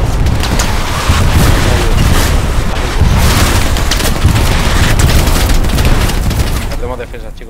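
Loud, continuous rumbling blasts and booming rocket explosions from the game Hell Let Loose, dense and relentless throughout before easing slightly at the end.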